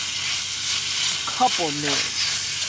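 Cheesesteak meat sizzles steadily as it is stirred and fried in a pan, a constant close crackle running under a brief spoken remark.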